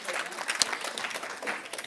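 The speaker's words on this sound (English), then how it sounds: "We can give her a clap" A modest group claps for a guest from the Royal Botanic Gardens at a STEM teaching session, fairly quiet and patchy applause with a few sharper individual claps and a voice or two underneath.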